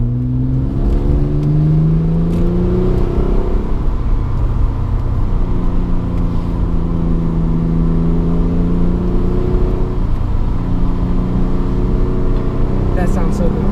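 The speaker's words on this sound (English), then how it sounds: "Ooh, I heard a backfire. I let off the gas a bit." A car engine with a modified, louder exhaust revs and drones with rising and falling pitch, recorded from inside the cabin, while someone talks over the steady engine noise; the faint backfire is barely distinguishable.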